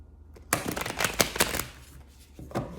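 A tarot deck is shuffled briskly up close, a quick burst of riffling flutters followed by a brief pause and a final tap.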